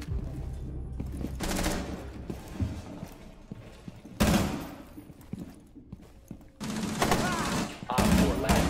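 Bursts of light machine gun fire in Rainbow Six Siege, rapid rattling volleys that start and stop in several loud stretches with quieter gaps between them.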